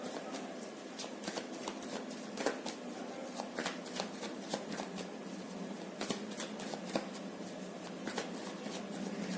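Tarot cards shuffled for a reading, a steady papery riffle and slide running throughout with sharp card snaps at irregular intervals, close and moderately loud, no talking.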